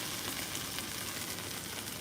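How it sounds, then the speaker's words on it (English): Food sizzling and frying in a pan, a steady close crackle that holds evenly throughout with no voices. "sizzling, sizzling"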